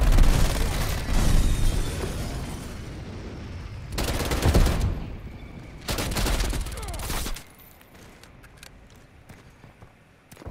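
Sentry gun in Black Ops Cold War multiplayer firing in loud sustained automatic bursts mixed with booms, the bursts dropping away in the last few seconds to quieter scattered shots.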